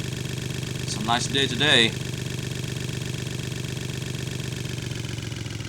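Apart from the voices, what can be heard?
motorcycle engine idling in a video game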